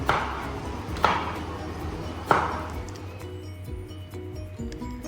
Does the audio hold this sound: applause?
no